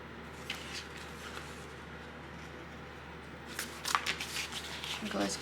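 Scissors cut down the center of fabric for a Lina crossbody bag with soft repeated snips, a little louder toward the end, under quiet room tone.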